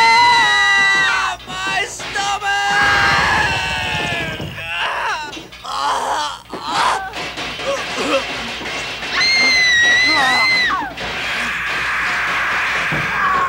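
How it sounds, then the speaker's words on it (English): Loud, drawn-out screaming from two voices in a scene from the horror film The Abomination, high and strained, overlapping and sustained for many seconds amid other chaotic noise. "They both scream for fucking ever."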